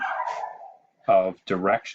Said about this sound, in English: my dog was on a barking spree.